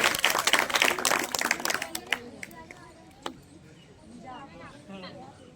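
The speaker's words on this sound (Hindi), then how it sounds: "तालियों की गड़गड़ाहट थोड़ी कम थी" Clapping from a school audience at an Independence Day program, a burst of many hands that fades out after about two seconds, leaving scattered taps, crowd murmur and faint voices.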